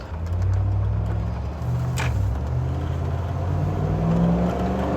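Land Rover Defender with a 6.2 litre V8 engine driving on ordinary roads, a steady deep engine rumble droning continuously with slight swells, no voices.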